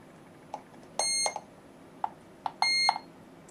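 Gardi Bliss video intercom call signal from the door panel, a melodic electronic chime of short beeps with two longer, brighter tones, clear and close with no talking.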